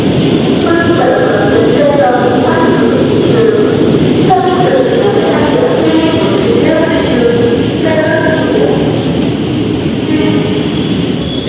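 Argo Sindoro passenger train with new-style carriages at Jatinegara station, a loud continuous rumble and rolling hum with faint tonal whines, heard close throughout.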